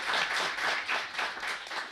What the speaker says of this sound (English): let's have a big round of applause for our speakers today